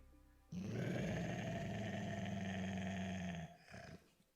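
A large hound growls in the video game UnMetal, a loud, steady, rumbling snarl lasting about three seconds, then a shorter second growl trailing off.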